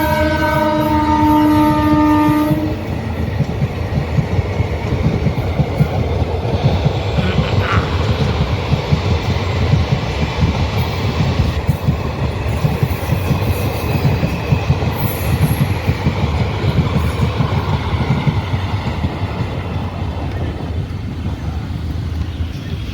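At a railway level crossing, a train sounds a loud horn blast, then rushes past close by with a heavy, continuous rumble and clatter of wheels and wagons lasting about twenty seconds.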